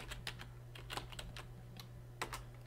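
Light clicks of a computer keyboard as a login is typed in, quiet uneven keystrokes in short bursts over a low steady electrical hum.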